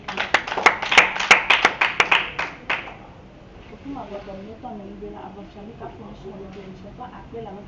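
A church congregation claps rhythmically for about three seconds, loud and close, then the clapping fades into quieter voices.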